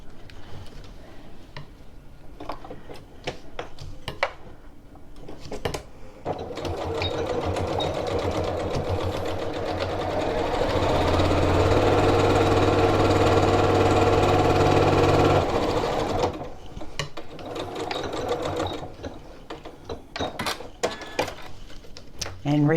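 Sewing machine stitching a reversible tote bag, starting with short clicks and taps, then a long steady whirring run that builds and stops, with someone talking around it.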